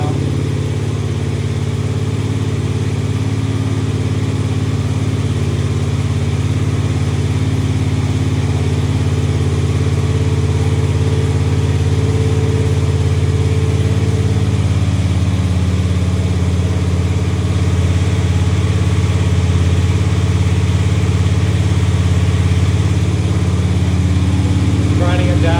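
A floor machine grinds and hones a terrazzo floor with a loud, continuous low droning hum that stays steady throughout, with no break in the motor sound.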